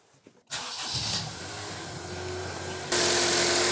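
A car engine turning over and catching after a drive belt replacement, a brief crank followed by a steady close idle that rises sharply in loudness near the end.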